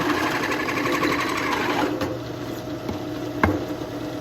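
A router cuts through wood to shape an angled bean bag board leg, whirring steadily with a brief sharp spike near the end as the bit exits the backside.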